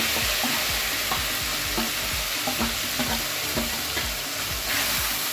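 Ginger, garlic and onion paste fry in oil with a loud, dense sizzle, broken by rapid scraping and stirring strokes that knock and click against the pan, close up with no voices.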